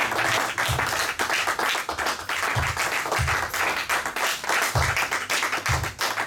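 A church congregation claps and cheers in steady, dense applause, with rhythmic low thumps and a continuous crowd roar throughout.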